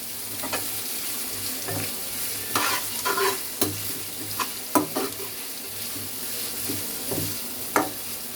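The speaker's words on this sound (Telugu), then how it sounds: "ఇవన్నీ ఆయిల్లో బాగా ఫ్రై అవ్వాలి." Carrots and other vegetables sizzle steadily in hot oil for fried rice, with several sharp stirring scrapes and clatters over the frying hiss.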